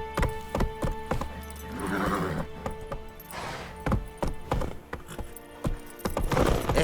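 Hooves of Roach, Geralt's horse in The Witcher 3, clip-clop in a quick galloping rhythm, with a couple of snorting whinnies and a game music bed underneath.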